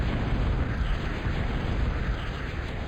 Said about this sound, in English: Missile towers take down the bomber.